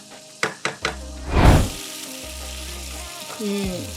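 Potato and broad bean curry frying in a pan, a few sharp knocks of a spatula followed by a loud surge of sizzling and stirring, then a lower ongoing fry, close by.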